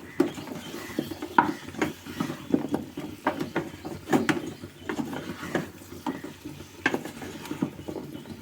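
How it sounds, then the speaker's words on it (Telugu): Drumstick pieces are stirred in a metal cooking pot for a drumstick curry, with repeated close scraping and clattering strokes in an uneven rhythm and a faint sizzle underneath. "కోసించున్న ములక ముక్కలన్నీ వేసుకున్నాం వేసుకుని మొత్తం కలిసి తిప్పుకున్నాం"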